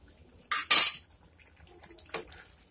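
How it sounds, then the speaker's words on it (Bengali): A spoon clanks and scrapes against a pan while a soybean and masoor lentil curry is stirred: two quick metallic scrapes close together, then quiet, then a fainter scrape and clatter a moment later. "আবারও নেড়ে চেড়ে মিশিয়ে নিয়ে এখন এই তরকারিটিকে"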